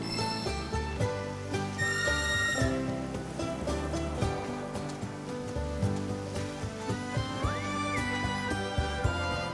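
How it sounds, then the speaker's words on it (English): A short chocobo-calling whistle in Final Fantasy VII Rebirth rings out in bright bursts over a continuous swell of game music, with a rising tonal call near the end. "just give your whistle a blow to ride your chocobo."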